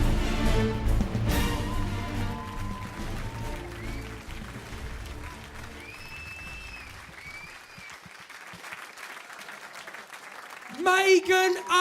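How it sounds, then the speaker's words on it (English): An audience applauds at a launch event, broad clapping that swells at the start and gradually thins out, with a voice talking over it before a louder burst of cheering and voices near the end. "Round of applause again"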